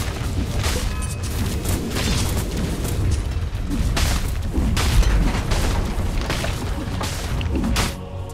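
A Dota 2 tower is destroyed amid a match, heavy booming blasts and crashing thuds layered over constant battle noise, loud and dense throughout before easing slightly at the very end.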